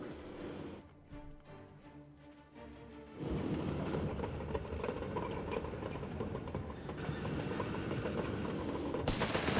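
Sustained machine gun fire rattles through a Company of Heroes 3 battle, a dense rumbling barrage with rolling explosive booms, loud and continuous throughout.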